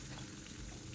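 Boiled chicken liver and gizzard frying in hot oil, giving a steady, faint, continuous sizzle with no speech over it.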